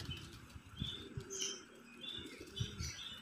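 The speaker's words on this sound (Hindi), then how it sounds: "ये देखें जी बिल्ले घाघरे कबूतर इन्होंने रखे हुए हैं छोटे साइज़ में" Small pigeons kept on a rooftop flutter and coo quietly close by, with soft wing flaps and faint chirps against a low, steady background.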